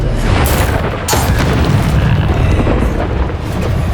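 Incendio fire spell cast in Hogwarts Legacy, a loud rumbling burst of flame layered over dense combat effects and booming low-end noise, with no speech.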